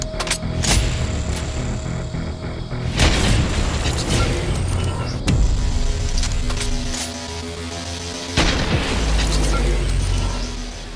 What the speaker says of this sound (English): So I went in with my heavy sniper.